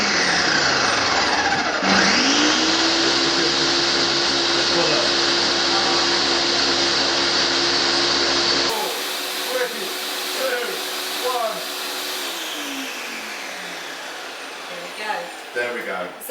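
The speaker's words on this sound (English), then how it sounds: "So you do want to blend that for probably a minute, or just make sure it looks relatively smooth in your blender." A countertop blender whirs through a green smoothie, a loud motor drone that starts and holds for several seconds, then cuts off abruptly, leaving quieter clattering and handling sounds.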